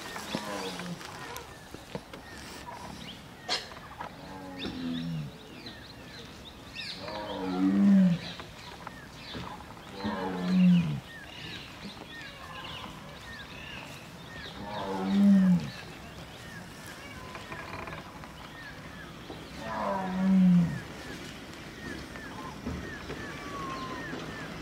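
A tiger cub growls from the forest of Panna Tiger Reserve in central India, five low moaning calls spaced a few seconds apart, moderately distant over a faint outdoor background.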